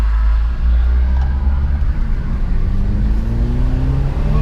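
A non-turbo car engine accelerates steadily, its low rumbling drone rising in pitch as it pulls harder, loud and close throughout with no talking.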